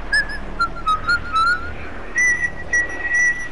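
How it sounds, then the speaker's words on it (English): A person whistles a short, wandering tune of clear, bright notes in brief phrases with small gaps, fairly close and loud over faint background noise. "Who's whistling?"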